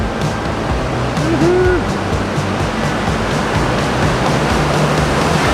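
Large ocean swell breaking at J Bay during a record swell: a constant loud roar of surf and rushing whitewater, with a faint voice briefly audible.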